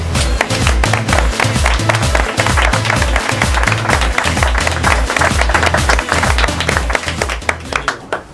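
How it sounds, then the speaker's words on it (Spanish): Loud, dense audience applause at a book presentation, many hands clapping close by in a sustained burst that fades slightly near the end. "para romper un poco el hielo pediría un sonoro aplauso para él"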